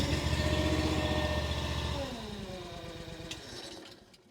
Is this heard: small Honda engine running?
yes